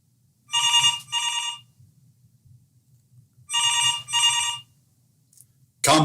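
A telephone rings with an incoming call from NORAD headquarters: two double-burst electronic rings spaced a few seconds apart, clear and close against a faint low hum, then a brief sharp noise at the end.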